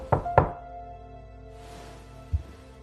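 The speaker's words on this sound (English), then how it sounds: "Then came a knock on the door." Two sharp knocks on a house door land close together near the start, followed by quiet room tone and one more single thud a couple of seconds later.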